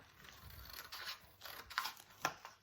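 Scissors snip through paper to cut out a pair of ears for a craft, giving a few crisp, close cuts and rustles at a quiet level with no talking.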